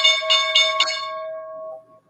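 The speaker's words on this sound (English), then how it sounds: "Oh, there's a bell." A bell rings three quick bright strikes in succession, then the tone hangs and decays for over a second before fading out, clear and alone.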